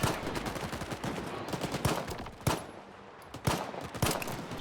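A jam-prone broken pistol firing in the video game STALKER 2, a handful of sharp, loud irregular shots over a busy background of game noise.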